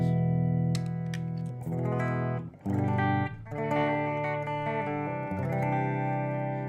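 Electric guitar played through a REVV G2 pedal into the clean channel of a REVV G20 amplifier, a loud driven riff of sustained chords and picked notes with a brief gap midway, no talking.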